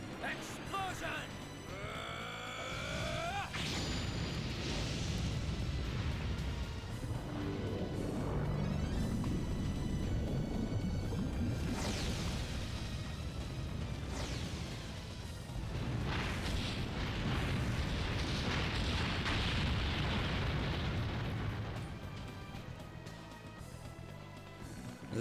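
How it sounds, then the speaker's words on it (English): A long, rumbling explosion effect from The Legend of Dragoon, a video game, booms and crackles for many seconds, with grunting battle sounds layered in and someone talking over it. "Explosion!"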